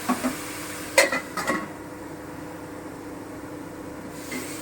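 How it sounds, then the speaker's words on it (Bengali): A lid goes onto a pan of simmering Piyali fish charchari curry with a few close metallic clanks and knocks, then a soft steady hiss under the cover. "এবার আমি আঁচটা কমিয়ে একটু ঢেকে দিচ্ছি"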